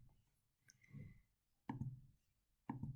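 Two sharp mouse clicks, well spaced and close to the mic, stand out against a quiet room with faint low murmur between them.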